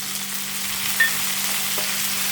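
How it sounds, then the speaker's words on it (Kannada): Spices, onion and green chilli frying in a pan for a green chicken gravy, a steady close sizzle with a faint stir at one moment, no voices. "ಫಸ್ಟು ಇದನ್ನು ಚೆನ್ನಾಗಿ ಫ್ರೈ ಮಾಡ್ಕೊಂಬಿಡ್ತೀನಿ ನಾನು"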